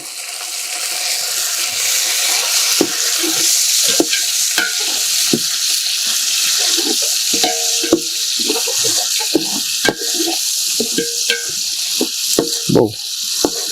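Frying pulao crackles and sizzles loudly in a pot over a wood-fired stove as a chopped red tomato goes in, with repeated sharp stirring clatters and scrapes throughout.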